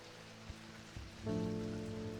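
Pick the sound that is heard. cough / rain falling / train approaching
rain falling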